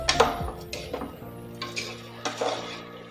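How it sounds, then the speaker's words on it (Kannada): Rice and vegetables for white vegetable pulao stirred in a metal pan, with quiet scattered clinks and scrapes of a utensil against the pan in an irregular rhythm, no talking. "ನೋಡಿ, ಅಕ್ಕಿ ಎಲ್ಲ ಸೇರಿಸಿದಾದ್ಮೇಲೆ ಇದಕ್ಕೆ ಒಳ್ಳೆಯದೊಂದು ಮಿಕ್ಸ್ ಕೊಡೋಣ."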